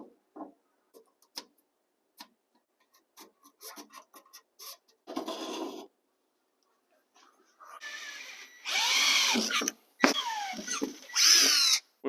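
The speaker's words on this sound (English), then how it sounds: "drill some holes so we can mount it to the original bracket" Power drill boring holes through a steel bracket for a Summit Racing steering column install, with short bursts of high whining drilling after scattered taps and clicks, loud and close.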